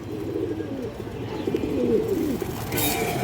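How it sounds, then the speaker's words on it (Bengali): A large pair of Musoldom pigeons coos in a steady, low, rolling murmur, close by and continuous, with no voices over it. "বড় সাইজের এক পেয়ার মুসলদম কবুতর আছে"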